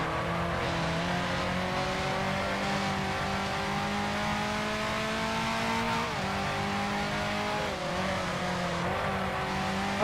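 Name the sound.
Ferrari Tipo 625 race car engine from a racing video game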